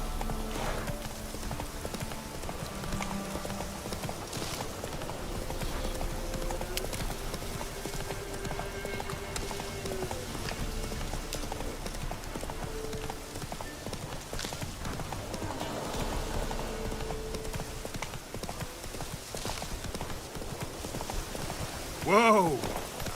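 A horse gallops in The Witcher 3 video game, with continuous rhythmic clip-clop hoofbeats at moderate volume, game speech heard at times over the hooves, and a whinny near the end.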